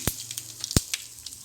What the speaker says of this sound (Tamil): ஒரு பேனில் தேவையான ஆயில் ஊற்றிட்டு கூடவே தாளிக்கிறதுக்கு கடுகு, உளுத்தம்பருப்பு சேர்த்துருங்க